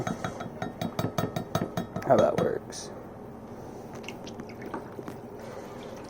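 Neem oil poured from a bottle into a small measuring cup for a homemade organic garden pesticide, giving a brief close glugging splash amid clinks of the container while a person talks over it.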